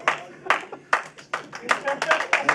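Scattered clapping from a small audience at a comedy open mic, a few sharp separate bursts that thicken into a brief patter, with a voice talking over it.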